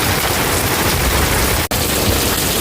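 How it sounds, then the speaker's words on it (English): Rain falling steadily outdoors onto plants, a dense, even hiss of drops close by with a brief break in the sound partway through. "And that rain coming down, look at it."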